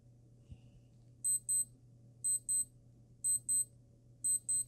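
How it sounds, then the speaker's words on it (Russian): A Casio G-Shock GA-2000SU-1A watch alarm beeps in repeated pairs of high, sharp chirps, roughly once per second, over a low steady hum. "Будильник, как всегда, громкий."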